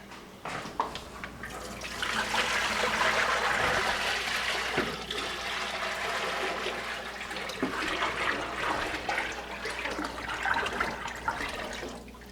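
Water runs steadily into a 30-liter ultrasonic cleaner tank and drains out through a piped-in drain line, giving a continuous broad rushing, gurgling flow that stays fairly loud and even throughout, with no talking.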